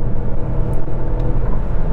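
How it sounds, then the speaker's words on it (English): A 2022 Mazda CX-5 with a six-speed automatic accelerating hard, its engine giving a low, steady rumble heard from inside the cabin, with faint brief clicks over the droning tone. "We got good low-end grunt from the engine, good response, good shifts."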